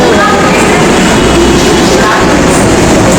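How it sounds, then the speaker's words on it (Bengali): A metro train pulls into an underground station, with a loud, steady rumble of wheels and rail noise throughout and faint talk in the background. "মেট্রো চলে এসছে এবার আমরা বেরিয়ে যাবো"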